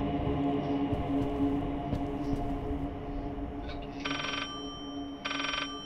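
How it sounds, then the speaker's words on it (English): Two bursts of an electronic telephone ring in a video game, each lasting about a second, sounding over a droning, humming background ambience. "Okay, there's a phone ringing."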